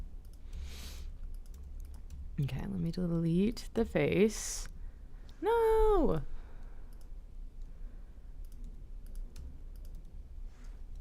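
Computer keyboard and mouse clicking, picked up close by a sensitive microphone as a run of faint, rapid clicks beneath a person talking and exclaiming.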